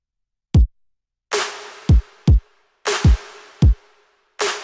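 Punchy kick drum thumps alternating with snare cracks in a simple beat pattern, clean and close with no other sounds.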